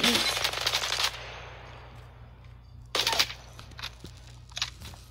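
Automatic rifle fire from the R-301 in Apex Legends sounds in two quick rattling bursts, one at the start and one around the third second, over a low steady hum with faint game effects between them.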